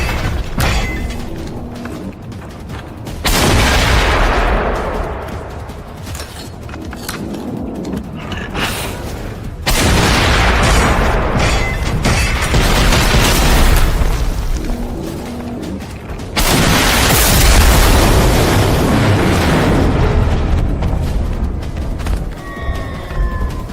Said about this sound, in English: send the EMP explosion clip